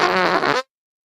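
A single loud, buzzy, rasping fart of about half a second, close and up front, ending abruptly in silence.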